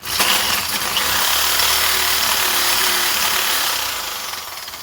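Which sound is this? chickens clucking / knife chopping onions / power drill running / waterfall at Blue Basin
power drill running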